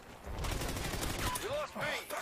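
Rapid gunfire bursts in the video game Call of Duty Ghosts, dense rattling fusillade with game sound effects and a voice talking over it.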